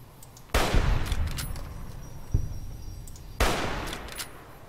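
Sniper rifle fire in Fallout: New Vegas, two loud close cracks a few seconds apart, each trailing off with a rolling echo, plus a fainter distant shot between them.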